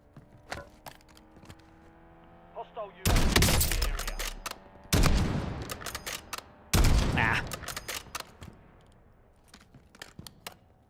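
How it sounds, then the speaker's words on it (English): Bursts of gunfire in a solo online video game shooter ring out in three loud volleys, with scattered sharp single shots and quieter clicks and footsteps in between. "I heard gunfire"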